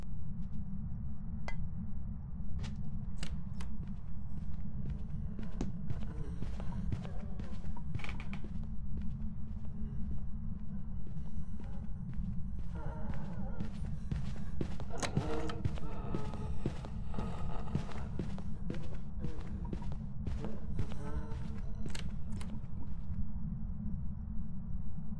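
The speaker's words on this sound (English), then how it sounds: "So this is what a Myling sounds like." A Myling ghost in Phasmophobia makes scattered sharp clinks, knocks and rattling taps, some in quick clusters, over a steady low hum, with no footsteps.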